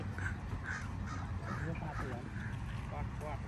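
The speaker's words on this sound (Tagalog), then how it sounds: "Yung uwak-uwak." Crows caw repeatedly at Lake Louise in Banff, Alberta, their calls rising now and then over a steady outdoor background with people talking nearby.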